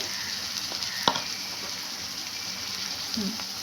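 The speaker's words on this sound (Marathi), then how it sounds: "मी मिरच्या घालते त्याच्यानंतर हा कांदा घालते आता हे आपण परतून घेऊया" Onion and green chillies with curry leaves sautéing in a pan for a raw banana dish, a steady soft sizzle with one sharp clatter of a spoon against the pan partway through.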